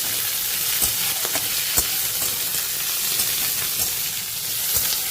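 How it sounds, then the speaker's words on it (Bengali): Plenty of chopped onions frying in a pan until browned, giving a steady close sizzle and hiss with occasional sharp crackles and stirring clicks, and no speech. "এবার পরিমাণে বেশি করে কুচানো পেঁয়াজ দিয়ে লাল লাল করে ভেজে নিচ্ছি"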